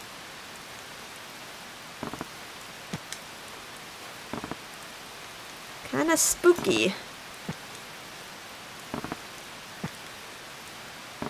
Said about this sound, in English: Usually it's just loud rain.